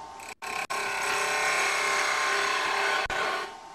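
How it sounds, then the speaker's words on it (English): A wood lathe starts up and spins a workpiece held in a Robert Sorby wobble chuck, the cutting tool producing a close, steady whirring hiss that holds for a few seconds after brief stops at the start. "So we'll just start the lathe up"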